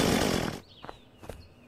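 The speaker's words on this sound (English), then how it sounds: "Chainsaw." Chainsaw in the video game Unturned roars loudly for half a second and then cuts off, followed by a faint high tone and two soft thumps.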